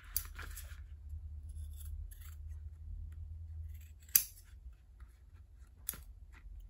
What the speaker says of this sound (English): So I'm just gonna trim this up with some scissors.